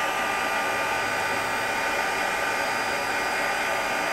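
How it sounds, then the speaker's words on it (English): Heat gun blowing hot air to dry colored craft paper, a steady, loud, continuous broadband whoosh with no pauses and no talking. "I'm going to hit him real quick with the heat gun just to dry"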